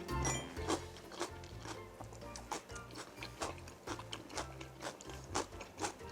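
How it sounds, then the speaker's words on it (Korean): Crisp, wet crunching from close-up chewing of cucumber kimchi, repeated bites in an uneven rhythm with faint background noise. "이 아삭한 소리 방금 들리셨나요?"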